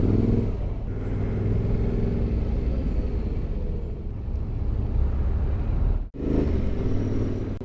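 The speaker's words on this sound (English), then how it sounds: "We have got vehicles going in every direction and coming from every direction." Chaotic Bolivian road traffic heard from a motorcycle: a dense, steady rumble of engines and wind noise, with vehicles passing close by and a sudden brief dropout near the end.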